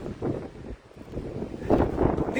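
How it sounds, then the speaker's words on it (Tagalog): Gusty wind in a heavy snowstorm roars into the microphone in surges, dipping briefly before swelling loud again, close and rough. "Pati yung hangin guys."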